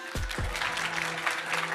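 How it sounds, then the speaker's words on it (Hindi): Audience applause in a studio political debate on Pakistan and partition, a steady wash of clapping running through the short stretch after two low thumps at the start. "ताली बजानी चाहिए।"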